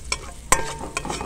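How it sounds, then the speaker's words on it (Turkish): Garlic fries in sauce in a pan with a close, crackling sizzle, and a few sharp clacks of stirring break through over a short stretch. "Sarımsaklarım pişsin."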